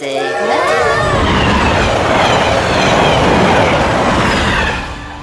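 A train rushes past close by, a loud continuous rumble and clatter of wheels with a brief squeal at the start, fading slightly at the end.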